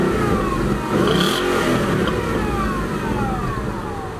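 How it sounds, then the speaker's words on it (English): A Ford Mustang GT exhaust revs loudly and up close, the engine note climbing and rasping before settling into a throaty drone. "Now the exhaust sounds like this."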